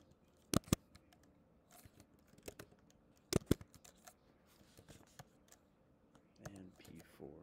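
Quiet, scattered keystrokes on a computer keyboard while typing into an Excel spreadsheet, with a few sharper clicks and irregular pauses between bursts, faint and close.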